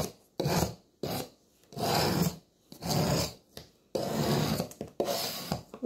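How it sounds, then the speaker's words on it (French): Dirt being scraped off a paper card insert in repeated rasping strokes, about seven close, loud scrapes with short pauses between them and no voices. "on gratte et on enlève les saletés, les plus grosses"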